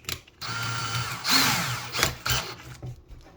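A DeWALT cordless drill's chuck tightens around a hex-shaft screwdriver bit, giving a close, loud mechanical whir with ratcheting clicks in several short bursts and brief pauses, with no talk.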